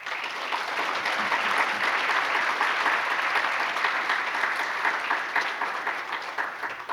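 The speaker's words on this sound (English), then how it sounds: "So please, a round of applause for our committee." A plenary audience at an academic research conference gives the committee a sustained round of applause, steady and full, fading slightly toward the end.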